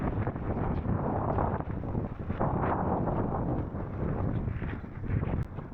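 Strong wind buffets the microphone with steady, broadband roaring gusts and no pauses, on an exposed point at Whitbarrow Nature Reserve in the Lake District.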